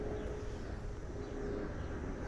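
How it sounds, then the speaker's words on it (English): Steady low broadband roar of a plane circling near a busy airport, heard from a suburban backyard, continuous and moderately distant with no voices. "non-stop plane going around."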